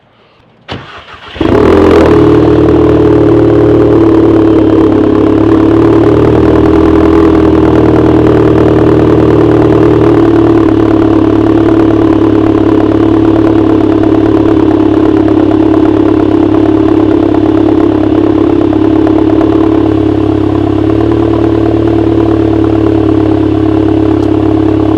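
A Volkswagen MK7 GTI cold-starts with a short crank and then catches into a loud, steady high idle that holds for over twenty seconds, sitting close and alone with no talking.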